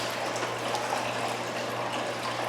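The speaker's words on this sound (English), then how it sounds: "Just mixing a little water there, a little 50-50." Water is poured and mixed half-and-half for moving goldfish into a pond, a steady, close rushing gush that holds even throughout.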